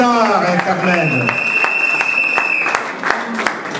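Guests at a Congolese wedding reception applaud and cheer for the couple, sharp claps and crowd noise over a sustained musical tone and a voice.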